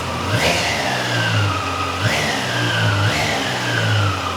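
A Triumph Daytona 660 motorcycle with its stock exhaust revs three times in close succession, each blip rising sharply and then dropping back to a steady idle, loud and near with no talking.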